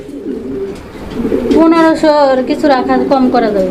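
Domestic pigeons, including a pair offered for sale, cooing close by at a busy pigeon market, with repeated throaty coos rising over a steady crowd murmur and people talking nearby.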